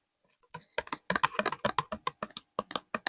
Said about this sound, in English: I've always loved the sound of tapping on paper or cardstock